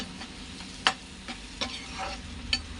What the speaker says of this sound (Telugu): సాల్ట్ వేసుకుంటే ఉల్లిపాయలు బాగా మగ్గుతాయి